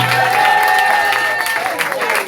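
A church congregation applauding and acclaiming the Lord, sustained clapping and cheering from a crowd with a voice carrying over it.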